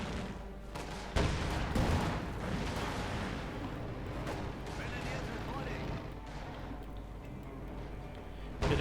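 Company of Heroes 2 battle sounds: scattered gunfire and heavy booms from Panther tank fire pop and thud at moderate loudness, repeating irregularly in the background.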